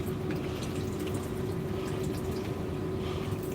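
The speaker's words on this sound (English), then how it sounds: "This is just water with a little bit of silica in it." Water mixed with a little silica nutrient poured onto cannabis plants in a garage, a steady continuous trickling and splashing that runs unbroken and fairly soft from start to end.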